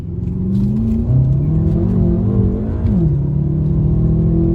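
A turbocharged BMW M5 F10 engine revs hard and climbs through the gears, a loud continuous roar with rising pitch and a brief shift dip midway.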